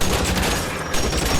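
Gunfire aimed at a car's tires during a chase in the video game L.A. Noire, a dense, loud, continuous burst of shots filling the whole moment.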